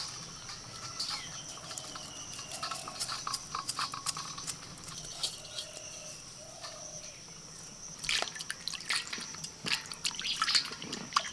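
Washed rice poured into a strainer lets water drain through in a soft, steady trickle with scattered drips, fairly faint and close, while birds call faintly in the background.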